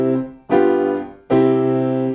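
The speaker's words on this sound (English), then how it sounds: "A cadence would sound like this." Piano plays a cadence, three sustained chords struck in turn, each ringing and decaying before the next, loud and alone.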